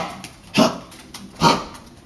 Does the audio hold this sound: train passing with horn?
no